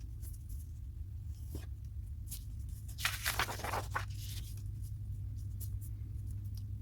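Faint scratchy strokes of a tool scoring paper seed packets on a desk, a few brief scrapes over a low steady background hum.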